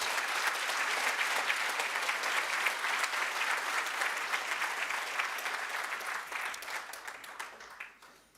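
A hall full of guests at the 2023 Western Cape Prestige Agri Awards gala claps in loud, dense, sustained applause that tapers off toward the end.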